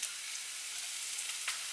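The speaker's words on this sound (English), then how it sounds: "So once your onion's sizzling," Onion sizzling in a frying pan, a faint steady hiss of frying with small crackles, heard alone.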